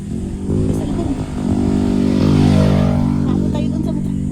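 A motorcycle on a dirt road during a road trip to a limestone cave campsite rumbles nearby, its engine revving up and growing louder as it passes, with people talking over it.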